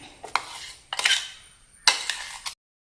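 Finely ground chicken scraped from a grinder jar into a bowl for momo filling, with several close clinks and scrapes of metal utensils against the containers in short bursts.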